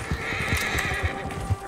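Horses neigh and whinny close by, with clip-clop hoof steps pulsing underneath in a short, lively burst.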